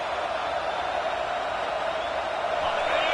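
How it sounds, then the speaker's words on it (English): Football stadium crowd during a game, a loud, steady wash of cheering and roaring voices blended into one sustained noise for the whole stretch, with no individual speaker standing out. "listen to this crowd noise. This stadium is vibrating."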